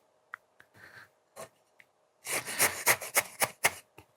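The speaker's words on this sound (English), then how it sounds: "You can roll the stones around." Stones roll and rattle around inside a bulbous rawhide rattle, first a few faint isolated clicks and then a denser run of scraping, tumbling rattles, close and quiet, with no voices.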